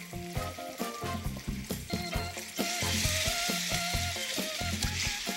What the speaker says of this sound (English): And stir it a little bit.